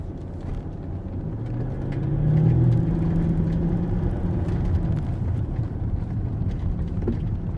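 Range Rover Vogue TDV8 diesel heard from inside while driving, a steady low engine rumble and road drone that swells briefly as it accelerates, then holds at cruise.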